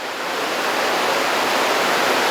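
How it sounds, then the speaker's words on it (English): Water pouring over Carrington Falls, a loud, steady, broadband roar close by that fills the whole stretch without a break. "albeit a bit noisy from all that beautiful water falling over here"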